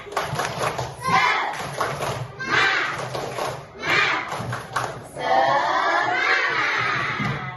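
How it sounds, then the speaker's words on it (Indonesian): Primary schoolchildren in a classroom repeat a rhythmic group clapping chant, short loud bursts of claps and shouted children's voices rising and falling, ending in a longer sustained cheer. "Sekali lagi, tepuk semangat."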